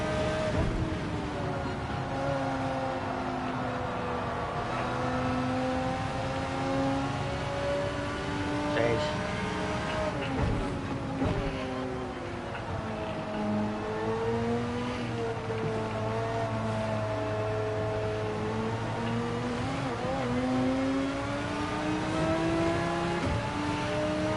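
Race car engine in a racing video game, a loud continuous drone that rises and falls through gear changes across a long stretch, with a voice talking over it at times.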